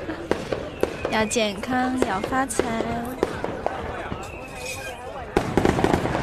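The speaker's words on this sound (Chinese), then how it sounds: "不看烟花吗？" Fireworks pop and crackle in repeated sharp bursts through the clip, with a denser crackling flurry at the end, while people talk and a voice speaks over them throughout.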